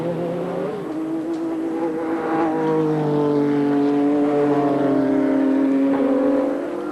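Race cars roar past at Amaroo Park racetrack in Australia in 1989. Loud engine notes rise and shift as several cars sweep through, giving a continuous, layered drone without speech.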